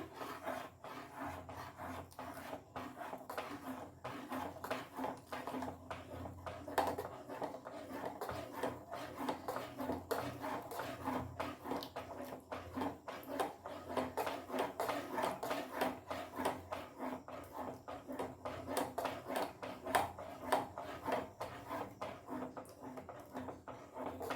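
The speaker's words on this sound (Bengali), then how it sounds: "আমি যে কর্নফ্লোরটা যে গুলে রেখেছি এটা আমি অল্প অল্প করে দেব আর সাথে সাথে নাড়িয়ে দেব" Cornflour slurry being stirred into a ripe-mango dessert in a pot, a faint, steady rhythmic scraping of a spoon against the pot, continuing throughout without speech.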